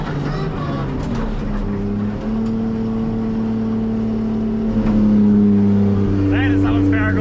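A Nissan 180SX engine idling, then revving and pulling away, close and loud with rising engine tones, while people talk over it.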